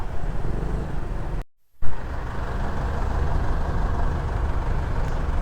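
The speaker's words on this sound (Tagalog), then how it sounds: "Traffic dito." Road traffic of trucks, buses and cars heard from a moving Suzuki Smash 115 motorcycle on the road toward Bicol, a constant engine and wind rumble briefly cutting out for a moment before resuming.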